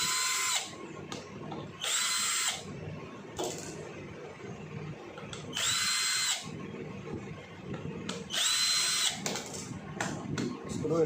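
A power drill spins screws out of a table fan housing in repeated whining bursts, each a second or so long, close and loud over a steady background hum.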